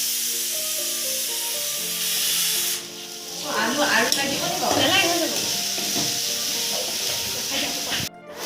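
Oil sizzles steadily in a pan as colocasia greens and chickpeas fry, with a voice talking over the hiss for much of the clip.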